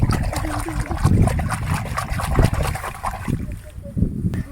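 A live crab being washed in water in a village setting: splashing, sloshing and trickling sounds with hands working in the water, close and moderately loud, fading to quieter drips near the end.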